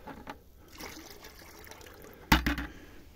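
Birch sap poured from one container into another outdoors on a frosty day, a brief trickling splash of liquid after a quiet stretch, fairly close.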